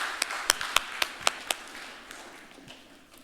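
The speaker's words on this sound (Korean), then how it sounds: "하나님 앞에 영광의 박수 올려드립시다" Church congregation at a Sunday service breaks into applause heard as a few sharp, distinct claps in a quick rhythm before fading out into a quiet room.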